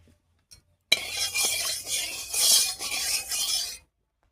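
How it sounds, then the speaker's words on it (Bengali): Eggplant is mashed together with spices in a bowl, with a steady, close scraping, clinking rub of hand or utensil against the bowl for about three seconds, then stopping. "তেলটা গরম হতে হতে বেগুনটা আমি সবকিছু দিয়ে মেখে দিচ্ছি।"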